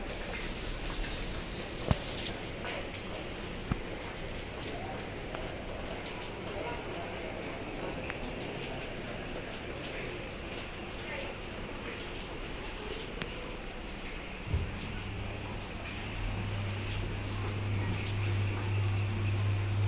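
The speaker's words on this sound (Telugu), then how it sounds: "ఫుల్గా పడుతుంది వాన అయితే" Heavy morning rain pours down steadily, a dense continuous patter on surfaces with a few louder drips and knocks, recorded close and filling the whole stretch without speech.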